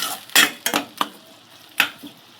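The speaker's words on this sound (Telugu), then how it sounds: "1 టేబుల్ స్పూన్ సాల్ట్ వేసుకొని ఒకసారి బాగా కలుపుకుందాము." A spoon stirs grated tomato with turmeric and salt in a pan, giving a few sharp scraping clinks and knocks against the metal, spaced irregularly with quiet gaps.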